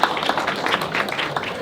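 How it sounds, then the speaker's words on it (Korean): An audience at a research presentation on disability support services applauds after a speaker is introduced, a steady dense patter of many hands clapping at moderate loudness with no pause. "큰 박수 부탁드립니다."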